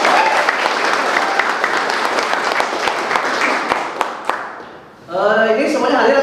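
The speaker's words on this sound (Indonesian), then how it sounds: "Tepuk tangan untuk semua." Schoolchildren in a classroom clap together in loud, dense applause for about five seconds, then it stops and a voice or several voices speak.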